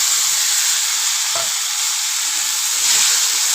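Ginger and green chili paste sizzling loudly in a pan with softened tomato, a constant close hiss of frying broken by a couple of brief stirring scrapes.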